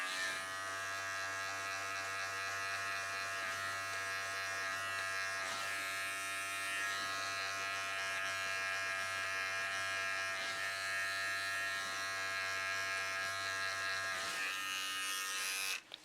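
Electric hair clippers cut hair for a low taper self-cut, a steady close buzzing hum that continues without a break and drops out at the very end.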